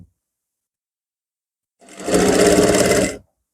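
A sewing machine runs a continuous burst of stitching along a garment neckline, loud and close for just over a second after silence, then stops abruptly.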